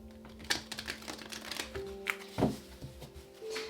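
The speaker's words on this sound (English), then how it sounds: "one more shuffle" A deck of tarot cards shuffled close by, with several soft riffling bursts and light card slaps at an uneven pace, low in level over a faint tonal hum.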